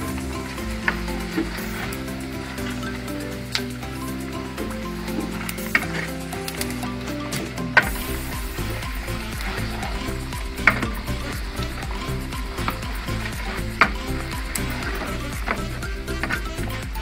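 Pork rinds crackle and sizzle as they fry in a pot of hot fat on a ranch, a steady dense hiss punctuated by sharp pops and snaps at close range, continuing without pause.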